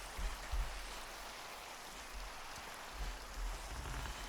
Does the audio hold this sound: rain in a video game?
yes